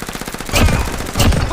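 Rapid automatic gunfire from an offline mobile first-person shooter, loud and close, with dense bursts that swell around the middle and again near the end, no talking.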